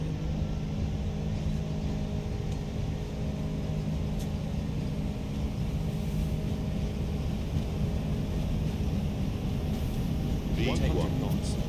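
Airbus A340-600 engines spool at takeoff thrust in a flight simulator sound pack, a steady deep roaring drone heard from inside the cockpit, with faint clicks and brief higher whines near the end.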